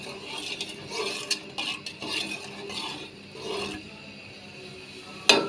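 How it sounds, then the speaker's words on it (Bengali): Tea is stirred and mixed in a pot with a utensil, producing close, repeated scraping and rubbing strokes in an uneven rhythm, ending with a sharper knock. "তো আবার মিক্স করে নিচ্ছি আমরা চাটাকে।"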